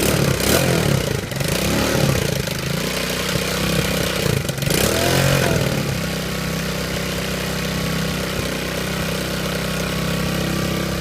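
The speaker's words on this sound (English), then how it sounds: "it should work out great" A moped scooter engine with a freshly re-jetted carburetor runs steadily nearby, with a couple of brief revs early on before settling into an even idle.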